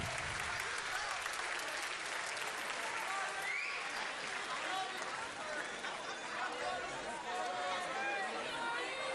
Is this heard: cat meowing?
no